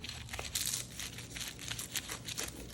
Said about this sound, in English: Gonna cut into this with a pizza cutter.